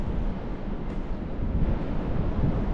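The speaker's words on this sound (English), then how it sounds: "It's a little windy, a little rainy today." Strong wind buffets and roars continuously with gusty rumbling, loud and close, with no voices.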